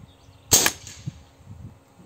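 A single sharp, loud shotgun slug shot is fired from a 600mm Fiora barrel, a sudden crack that fades quickly into quiet with faint background noise.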